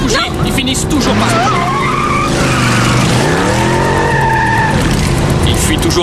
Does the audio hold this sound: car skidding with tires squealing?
yes